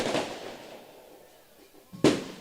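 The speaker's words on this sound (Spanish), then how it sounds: "Ya empieza los bullicio también. Los petardos." Firecrackers popping at a senior municipal football cup final: a faint crackle at the start, then a sharp loud bang near the end amid crowd ambience.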